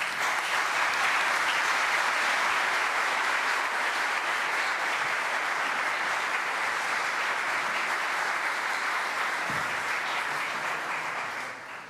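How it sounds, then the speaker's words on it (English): A congregation applauds during a priestly ordination Mass in a church, a broad, sustained wash of clapping that stays loud and even for about ten seconds before easing off. "A round of applause is in order."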